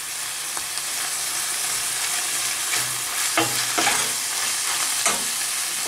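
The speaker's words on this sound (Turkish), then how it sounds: "soğan, sarımsak, kıymamızı kavurduk, salçamızı da kavurduk" Minced meat frying with onion, garlic and tomato paste for an oven moussaka, an even sizzle under scattered spoon scrapes that cluster into several louder clatters toward the end.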